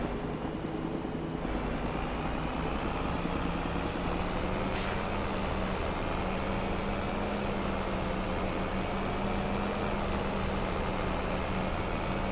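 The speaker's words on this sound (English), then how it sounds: "Full load of logs in a truck." A truck hauling a full load of logs in Farming Simulator 25 drones steadily with a low engine rumble, and a short hiss sounds partway through.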